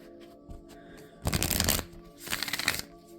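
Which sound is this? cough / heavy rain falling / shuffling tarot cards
shuffling tarot cards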